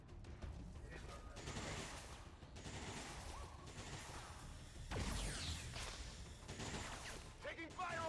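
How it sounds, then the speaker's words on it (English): Gunfire in the XCOM 2 Long War of the Chosen mod: repeated bursts and volleys of shots with whooshing impacts and a crash, fairly loud, with game effects mixed in. "Taking fire over here."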